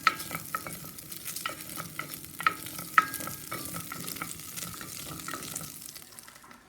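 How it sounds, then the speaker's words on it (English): Whole wheat flour roux stirred in a pot used for boiling noodles, a quiet steady scraping with soft sizzle and occasional sharp clicks of the spoon against the pot. "And you just stir your roux around"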